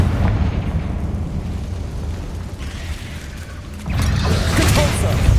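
Fire spell explosions in Hogwarts Legacy, with loud roaring blasts that rumble throughout and swell into a bigger burst near the end.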